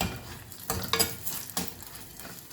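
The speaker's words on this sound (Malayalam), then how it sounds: "മുളകും മല്ലി മീഡിയം ഫ്ലെയിമിൽ വെച്ചൊന്ന് മൂപ്പിക്കാം" Dry chili and coriander roasting in hot oil on a medium flame for fish curry, with a steady close sizzle broken by a few scraping stirs of the spoon against the pan.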